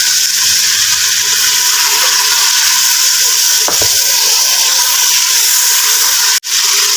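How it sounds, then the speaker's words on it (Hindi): Water poured into a hot pan of spice masala for aloo wadiyan salan sets off a loud, steady sizzle and steamy hiss that holds throughout, briefly dipping near the end. "मैं इसके अंदर थोड़ा सा पानी ऐड करूँगी ताकि जो मसाला है हमारा वो नरम हो जाए"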